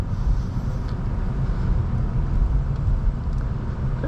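A 2023 Subaru BRZ Premium drives at night with a steady, loud low engine drone and road rumble throughout, no gear change or rev spike standing out.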